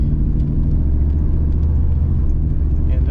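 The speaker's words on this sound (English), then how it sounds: "Brian gave me the go-ahead to bring the RPMs up" A cold third-generation Chevrolet Camaro engine running with its RPMs raised, producing a loud, close, continuous low rumble that holds steady without clear throttle blips.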